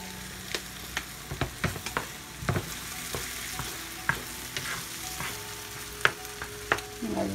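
Nopales and egg mixture being stirred in a frying pan, with a spoon scraping in repeated distinct strokes over a soft, steady sizzle close by.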